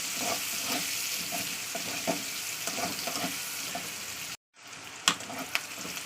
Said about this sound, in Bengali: পেঁয়াজটা দিয়ে দিচ্ছি পেঁয়াজটাকে দিয়ে দিলাম পেঁয়াজটাকে এবার লাল লালি করতে হবে